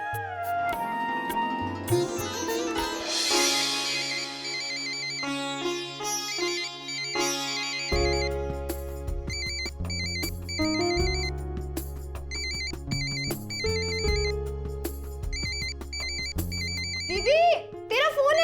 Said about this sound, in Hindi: दीदी, तेरा फोन है।